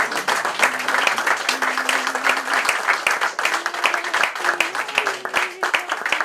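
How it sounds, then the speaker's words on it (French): Audience applause at a French commemorative ceremony honoring boxer Marcel Cerdan, steady dense clapping from a crowd lasting throughout, with faint voices and a sustained tone underneath. "Ce que je vous demande peut-être, c'est de vous lever et d'applaudir"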